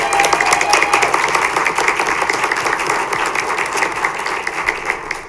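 A school board meeting audience applauds steadily, dense clapping filling the room at a strong, even level throughout.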